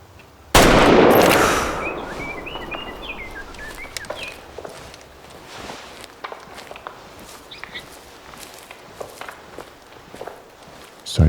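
A gunshot fired at an animal while hunting: one loud, sharp crack that rolls off in a long echo, then soft footsteps and rustling carry on through the rest.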